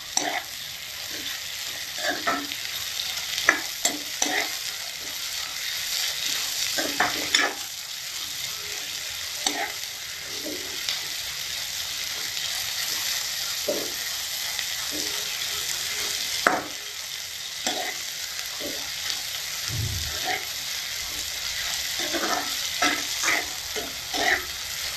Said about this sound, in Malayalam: ഇത് നല്ല ബ്രൗൺ കളർ ആവണ വരെ നന്നായിട്ട് വഴറ്റിയെടുക്കണം